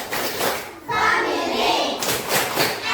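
A class of children claps together in a quick patterned classroom cheer, sharp hand claps running under their raised chanting voices.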